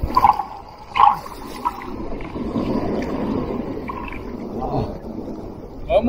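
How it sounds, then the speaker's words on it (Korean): Loud, continuous rush of Atlantic Ocean surf and churning water, broad and roaring, with people shouting excitedly over it. "어마어마하게 파도가 옵니다, 지금."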